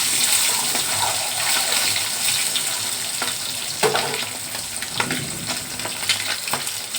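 Oil sizzles steadily as eggs fry in a pan, with occasional clinks and scrapes of a utensil stirring.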